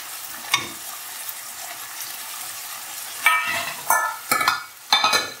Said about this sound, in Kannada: ಸೊ ಇದು ಫ್ರೈ ಆಗ್ತಾ ಇದೆ.